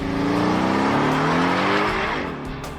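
A freshly finished custom car out on a test drive gives a loud, sustained tire squeal over its revving engine for a couple of seconds, then fades slightly as it pulls away.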